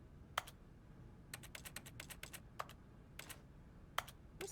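Keyboard typing in The Stanley Parable video game, quiet irregular bursts of crisp key clicks, some single and some in quick runs, over a soft low background hum.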